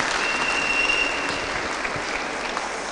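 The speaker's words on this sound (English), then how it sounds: "Give the Lord a hand clap this morning." A morning church congregation claps for the Lord, a steady, fairly close crowd of hands applauding evenly, with a faint tonal whine briefly running through it.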